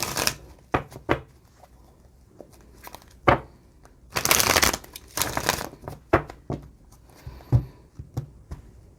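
Tarot cards being shuffled before one is drawn: close, papery riffles and taps in irregular bursts, with a denser, louder shuffling stretch near the middle and scattered card slaps around it.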